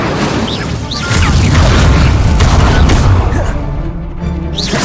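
The Incendio fire spell in the Hogwarts Legacy video game gives a loud, dense rumbling burst of flame and crackle, swelling for a couple of seconds amid busy combat noise before easing off.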